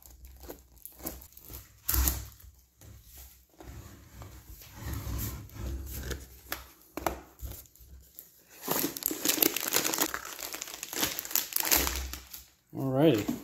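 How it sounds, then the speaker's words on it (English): Plastic packaging tube of Opt7 RGB LED underglow lights being cut open at the end, giving scattered crinkling and tearing bursts at close range, with talk nearby. "So we just cut the end of the tube off."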